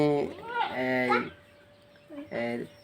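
Desi chickens at a poultry market give loud, close, drawn-out clucking calls in two bursts, with a quieter gap between them.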